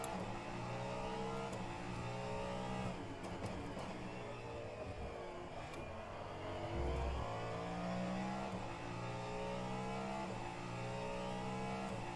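Ferrari race car engine in the racing sim rFactor 2, on the Daytona road course, droning steadily and revving through gear changes, with layered engine tones from nearby cars; no talk.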